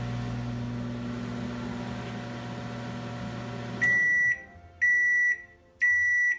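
A microwave hums steadily, then stops and gives three loud, evenly spaced beeps signaling it has finished.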